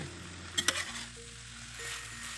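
Chinese bamboo shoots and pork bones are stir-fried in a pan, making a soft steady sizzle with a couple of quick stirring clatters near the start, close but quiet, with no voices.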